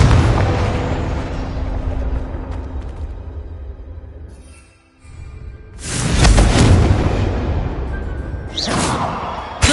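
Confringo fire spell cast in Hogwarts Legacy on PlayStation 4 Pro, bursting in a loud booming explosion with a whooshing flare, followed after a brief lull by a second strong blast and trailing rumble.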